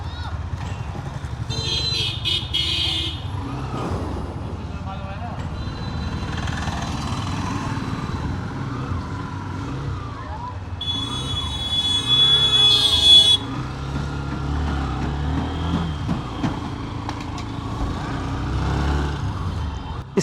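Hero Xtreme 125R motorcycle with dual-disc dual-channel ABS riding on a road, a steady engine drone rising and falling with throttle under continuous talking, with brief higher-pitched whines along the way.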